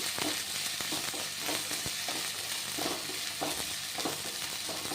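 Green chillies and curry leaves frying in hot oil for semiya upma, a steady sizzle broken by periodic stirring scrapes in the pan, close and alone without talk.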